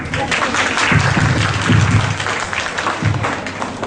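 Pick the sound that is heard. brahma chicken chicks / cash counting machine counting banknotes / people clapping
people clapping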